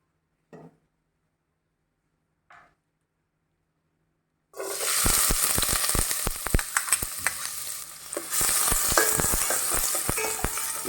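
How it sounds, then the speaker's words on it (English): Onions hitting hot oil in a preheated pan, two faint taps then a sudden loud sizzle that keeps crackling and spitting as they are stirred, with a brief dip before the frying swells again. "We'll add oil to this in order to saute the onions."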